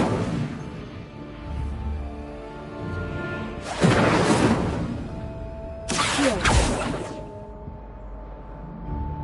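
An Incendio fire spell is cast in a wizarding video game, with two sharp bursts of whooshing, crackling flame over a low, steady background hum.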